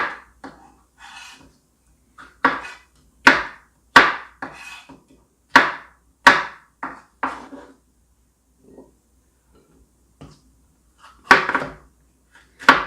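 A knife chops paprika into small cubes on a cutting board, giving crisp, close, irregular taps that come in short clusters with quiet pauses between them.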